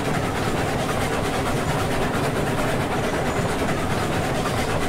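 Train rolling along in the Railroads Online game, a dense steady rumble of wheels and rail noise with no breaks, loud and continuous.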